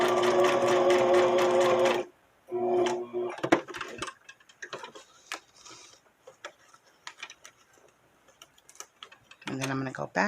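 A sewing machine stitches through paper mixed media cards, loud and close in two bursts of steady rapid whirring at the start and end, with quiet ticking and handling sounds between.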